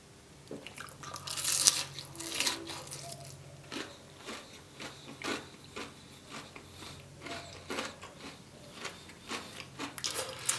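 Crunchy cheesy onion rings with sauce are bitten and chewed close to the mic, giving irregular crisp crunches and squishy chewing over about ten seconds with no talking.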